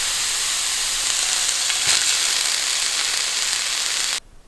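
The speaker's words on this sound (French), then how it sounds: "Donc là, je vais légèrement cuire l'ortie." Nettles frying lightly in a pan for an omelette, a steady close sizzle and hiss running unbroken, then cutting off abruptly near the end.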